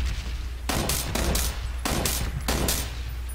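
Bursts of automatic gunfire in the battle-royale game PUBG, several rapid volleys in quick succession, loud and close, with a steady low background hum.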